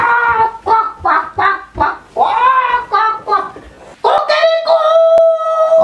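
An animated cartoon dog crows like a rooster, its voice imitating the call as a string of bright, tuneful yelps that rises into a long, sustained crow at the end, loud and close.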